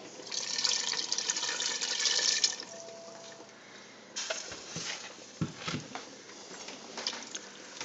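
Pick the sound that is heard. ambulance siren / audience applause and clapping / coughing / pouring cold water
pouring cold water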